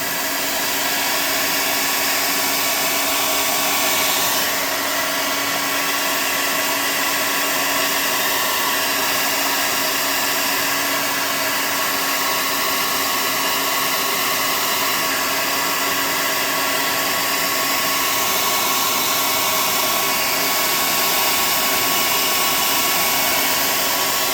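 A heat tool blows hot air in a steady, loud, unbroken roar with a faint whine. It runs alone with no talking while ground-pull props for a tabletop roleplaying game are being made.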